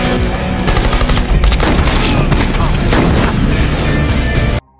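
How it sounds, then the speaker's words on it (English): An old machine gun in an action film opens fire on a cartel gang, a loud rolling barrage of shots and booming impacts that runs nonstop before cutting off abruptly near the end. "he shows up with his old machine gun and opens fire on them"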